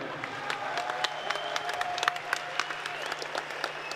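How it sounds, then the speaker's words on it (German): Crowd applause for two fighters after a free fight bout at a GMC event, a dense steady patter of many hands with scattered sharper claps, moderately loud and continuous. "Applaus nochmal für die beiden Fighter."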